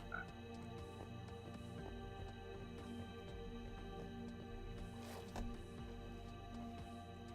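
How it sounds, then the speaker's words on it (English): Frogs croak in Minecraft with the Minecolonies mod, repeated low croaks over a constant dense background drone, faint and somewhat distant, with no speech. "That sounds like I should be looking for a frog"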